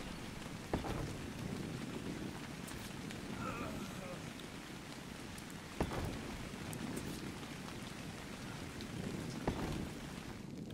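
Steady rain falls in the video game ARK: Survival Evolved, a soft continuous hiss with a few brief louder clicks, fairly quiet and with no talking.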